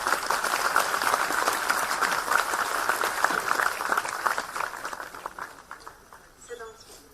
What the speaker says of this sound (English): Let's all clap and greet them.